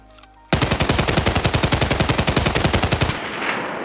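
Rapid automatic fire from an SA-58 rifle in Escape From Tarkov, a loud, steady burst of roughly twenty evenly spaced shots lasting about two and a half seconds, then a decaying echoing tail.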